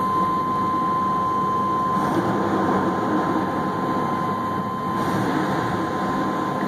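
A 1996 Chevy S10 with the 4.3 engine running steadily and loudly nearby, a continuous broad engine roar that holds an even level throughout, with no voices.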